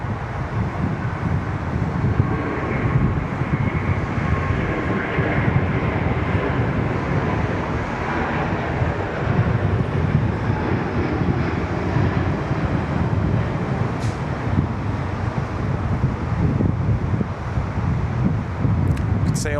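Delta airliner lifting off from Sydney Airport, a steady, broad roar of jet engines mixed with wind buffeting the microphone, continuous and fairly loud throughout.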